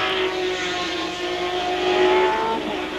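A BMW M1 Procar racing at Donington in 1979 howls past with a loud, sustained engine note, revs climbing and holding steady as it runs near and continuous.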